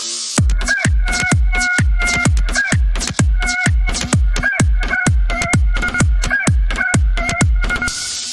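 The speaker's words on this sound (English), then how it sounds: "Propaganda rooster." A rooster gives loud, close, rapidly repeated crowing calls in a steady rhythmic series of harsh cries, heard alone without talk.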